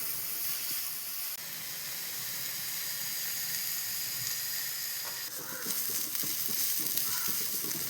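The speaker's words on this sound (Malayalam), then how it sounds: "നല്ല ബ്രൗൺ നിറം ആകുന്നത് വരെ ഇളക്കി കൊടുക്കണം." Curry ingredients frying in a pan for a simple chapati curry, stirred until brown: a steady, moderately quiet sizzle and hiss, with a shift partway through as stirring and light scraping become more pronounced.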